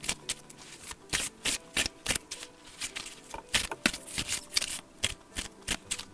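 Oracle and tarot cards shuffled by hand, a run of crisp riffling bursts and soft card slaps in an uneven rhythm, close and fairly quiet with no talking.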